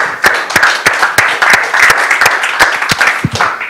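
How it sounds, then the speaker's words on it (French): Applause from a conference audience after a talk at a French national school, a steady burst of clapping with sharp individual claps standing out, close and fairly loud, with no voices over it. "Je pense qu'on peut t'applaudir."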